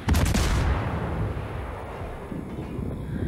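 Heavy warship gunfire in a naval video game, the Yugumo destroyer scenario: a loud opening salvo boom with a rumbling tail that fades into low continuous rumble, no voices.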